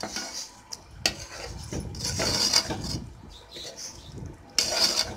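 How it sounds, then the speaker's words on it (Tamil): A utensil stirs and scrapes a thick sweet lentil filling in a pan for paruppu poli, giving irregular soft rubbing and scraping strokes with a few sharper clinks, fairly quiet and close. "நல்லா கிளறி விட்டுட்டே இருங்க அடி பிடிச்சிடும்"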